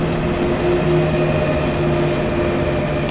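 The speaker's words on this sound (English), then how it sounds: "as the locomotive gently brings the train to a stop" Br 182 electric locomotive in Train Sim World easing its train to a halt, a steady rumbling cab ambience with sustained whining tones and continuous brake and wheel noise, moderately loud and unbroken throughout.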